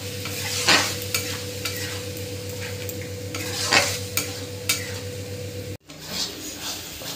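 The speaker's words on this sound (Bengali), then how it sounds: "দিয়ে মশলাটা আমি কষে নেবো খানিকক্ষণ ধরে" Spice paste with a yogurt and gram-flour mixture and coriander leaves being stirred and sautéed in a pan, with a constant sizzle and periodic spatula scrapes and clinks, close up, and a short break near the end.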